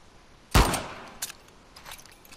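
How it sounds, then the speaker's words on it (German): A single sharp pistol shot cracks loudly in The Last of Us Part 2, followed by a few fainter clicks and metallic handling sounds. "Einen Schuss habe ich verschossen."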